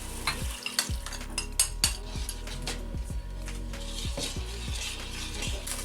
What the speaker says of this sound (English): And I'll keep stirring till the time it thickens.